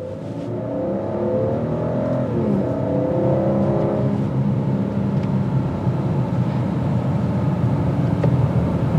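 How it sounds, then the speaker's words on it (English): A 2022 Maserati Quattroporte twin-turbo with a ZF 8-speed automatic gives a smooth, steady exhaust drone that builds and holds loud and close for several seconds, with no talking. "you're not gonna really hear anything but the exhaust note"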